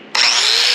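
A power grinder bites into an exhaust pipe weld on a 1930 Cummins-powered Dodge pickup, starting abruptly and holding a loud, steady high-pitched whine, close and alone.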